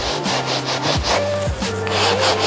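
Drill-mounted brush scrubbing sofa upholstery, a loud close rubbing and scraping with a repeating back-and-forth rhythm under the spinning motor's hum.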